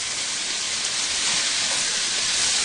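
Chopped onions sizzle steadily in a hot pan with spices for pav bhaji, a continuous loud frying hiss without pause.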